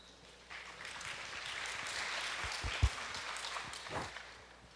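Audience at an open-source software conference applauding to welcome a speaker, a modest spread of clapping that swells and then tapers, with a few louder individual claps and some shuffling.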